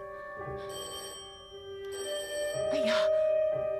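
A landline telephone rings in a drama scene, a few short electronic trill bursts repeating at moderate volume over a quiet room.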